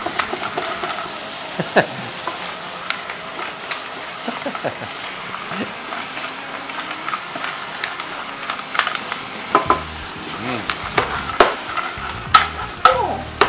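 Shellfish sizzle and clatter in a wok as it is stirred and tossed, with sharp irregular knocks of hard shells over steady frying noise.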